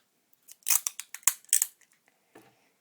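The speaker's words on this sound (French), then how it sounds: "je vais couper le scotch" Scissors snip through a strip of adhesive tape in a quick series of sharp, close cuts, followed by a faint rustle of the tape afterward.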